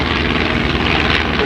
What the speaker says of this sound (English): Look at this plane doing a side slip as he's coming down.